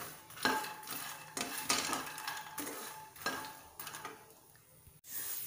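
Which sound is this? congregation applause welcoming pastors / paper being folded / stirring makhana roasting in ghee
stirring makhana roasting in ghee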